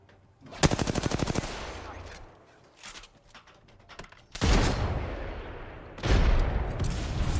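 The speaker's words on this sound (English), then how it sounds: "I am taking fire." Bursts of rapid automatic gunfire in Call of Duty: Warzone, a sustained rattling volley early on followed by heavier blasts and loud sustained firing near the end.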